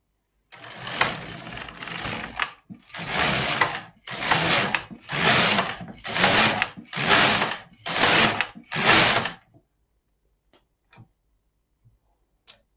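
An LK 150 knitting machine knits rows of waste yarn, its carriage making seven rhythmic mechanical passes, each a loud whirring clatter, then it falls silent.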